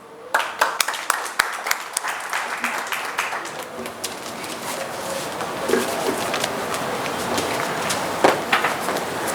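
Audience applause at an FPME annual meeting: scattered, uneven clapping from a gathered crowd that swells and continues throughout, with voices murmuring underneath.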